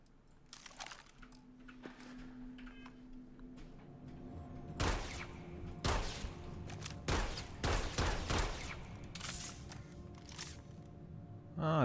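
A laser pistol in the video game Starfield firing a series of sharp, quick shots, mostly grouped into a close burst in the middle, over a faint quiet background.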